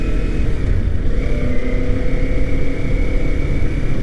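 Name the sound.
Kawasaki Ninja 400 motorcycle downshifting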